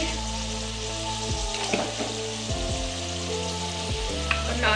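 Spices, salt, red chili and turmeric fry in hot oil for an aloo shimla mirch sabzi, giving a steady close sizzle with faint stirring scrapes and clinks, no voices.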